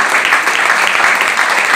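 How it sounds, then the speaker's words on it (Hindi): A burst of loud, dense applause from a crowd, many hands clapping together at full volume. "जोरदार तालियां"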